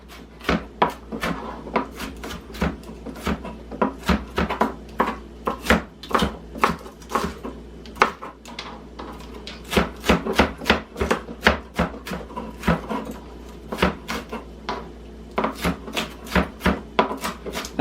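Onion chopped finely with a knife on a wooden board for stuffing, a long run of close, rapid, uneven taps with brief pauses.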